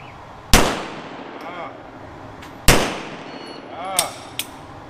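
Two loud gunshots at a shooting range, a few seconds apart and each ringing out briefly, followed by a couple of fainter pops from other shooters nearby.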